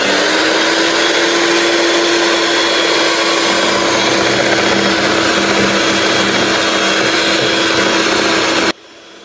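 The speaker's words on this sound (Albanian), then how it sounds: "Ne kemi ndezur rasin elektrik dhe pa mbaruar të gjithë sasinë e sheqerit, do të vazhdojmë të rrahim me rasin elektrik." An electric hand mixer whirs loud and steady while it beats sugar for a revani cake batter, humming continuously for about nine seconds before cutting off abruptly.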